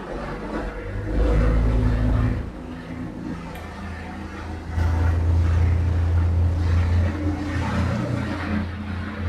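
A 30-foot Hanko 3096CV motorboat runs on open water among rolling swells, its engine a loud, deep, steady drone that surges twice as the throttle opens, with wind and water noise around it and no talking.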